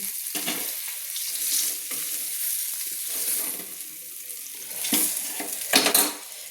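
Hot oil sizzles steadily as catla fish heads fry, broken by occasional scraping and clinks of a spoon against the pan.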